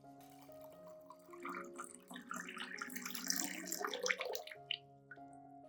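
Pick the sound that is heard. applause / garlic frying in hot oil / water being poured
water being poured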